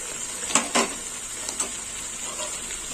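Spices including coriander powder and red chilli powder sizzling in a pan, with two quick scraping stirs early and a couple of lighter ones after over a steady fry.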